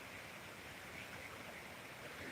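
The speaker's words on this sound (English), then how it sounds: "Okay, look at this beautiful waterfall here." A waterfall outdoors, a steady, faint wash of rushing water that holds the same level from start to end with no voices over it.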